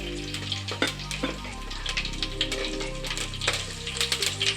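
Mustard seeds dropped into two spoons of hot oil crackle and spit with dense, irregular popping and a steady sizzle, close and fairly loud, with no voices.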